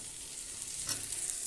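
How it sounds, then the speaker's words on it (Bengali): Fried potatoes and taro hit a sizzling spice mix in a wok, a bright steady sizzle that swells with a brief burst of frying near the end, close and alone without talk. "এবারে এর মধ্যে ভেজে রাখা আলু ও কচুগুলো দিয়ে দেব।"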